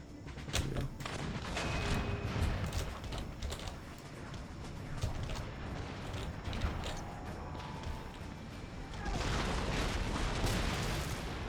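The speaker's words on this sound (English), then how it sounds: "Looks like they're just gonna frontally charge our artillery guns" Artillery cannons fire repeatedly in an Empire Total War battle, a string of booming blasts and clattering impacts layered over continuous dense battlefield noise, loud throughout and swelling again near the end.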